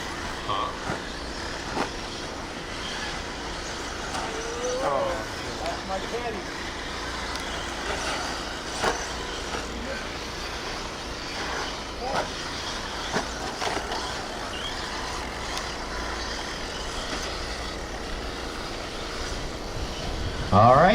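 RC stadium trucks race in the A-Main at the MAYHEM VII event, a busy, continuous whir of small motors with scattered bursts and crashes across the track, mixed with announcer talk.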